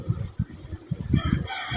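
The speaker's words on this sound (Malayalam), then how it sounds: "എല്ലാത്തരം കോഴികളും ഉണ്ട്" Chickens cluck in quick, uneven bursts nearby, with a rooster crowing among them; no talking.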